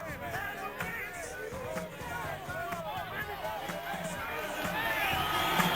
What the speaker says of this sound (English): Now the crowd comes alive.